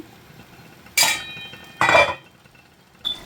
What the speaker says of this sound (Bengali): ভালো মতো নেড়ে চেড়ে মশলার সাথে মিক্স করে একটু কষিয়ে নেব